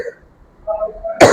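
A single sharp cough bursts out at the very end, following a stretch of quiet murmuring, during a Hindi-language maths lesson.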